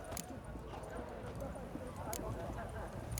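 Horse hooves clip-clop in the video game The Witcher 3, a steady, moderately faint patter of hoofbeats running the whole time under a low background bed.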